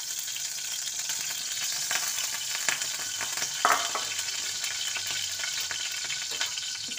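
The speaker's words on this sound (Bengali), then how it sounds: "কড়াইতে আমি তেল দিয়ে দিলাম," Cooking oil sizzles in a kadai on the stove, a steady close hiss with scattered small pops and one brief louder crackle midway.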